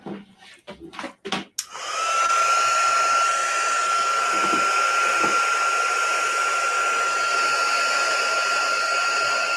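A hair dryer blows steadily and loudly up close to dry paint on a studio piece, after a few brief handling knocks at the start.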